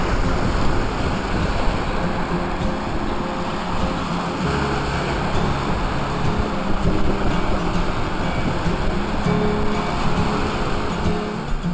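Lake waves slap steadily around a kayak crossing open water from South to North Manitou Island, with a continuous broadband wash and wind rumble filling the whole stretch, no voices.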